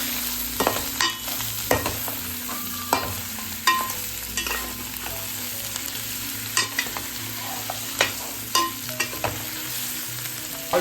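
Chicken pieces sizzle and fry in a pan for a Sunday lunch of natu kodi pulusu, with steady frying hiss broken by repeated sharp scrapes and clinks of a spoon stirring, no talking.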